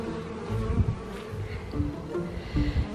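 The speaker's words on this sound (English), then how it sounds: "I wanna take you guys over here so you can see our bees." Honeybees buzz steadily at close range at the hive entrance, a low droning hum that swells and wavers as individual bees pass near.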